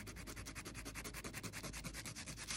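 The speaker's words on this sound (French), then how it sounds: "je vais utiliser donc, une lime" A nail file rasps across a fingernail to shape its tip, a quick run of close, rhythmic scraping strokes repeating evenly throughout with no speech.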